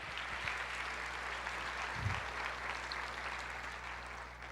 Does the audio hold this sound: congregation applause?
yes